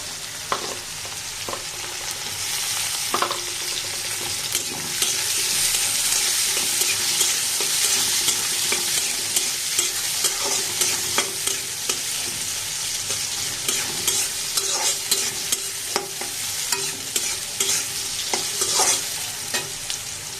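Chopped onion and noodles stir-fry together in a pan, a steady close sizzle running throughout with frequent scraping and tossing strokes from a spatula and no voices.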